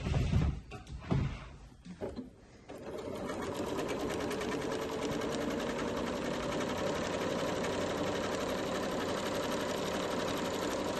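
A Janome MemoryCraft 7700 sewing machine stitches a decorative heart stitch, running in a fast, even mechanical whir after a few short handling knocks and clicks at the start, close and steady with no voices.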